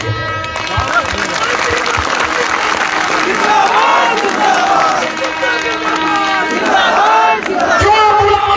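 A large village crowd at a political rally shouts and cheers continuously, a dense roar of many voices with clapping mixed in, loud and close throughout.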